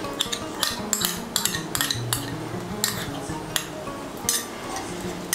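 Utensil scraping and clinking in a pan as poppy seed paste and cashew paste are stirred into oil with yogurt, a steady run of clatter with no voices.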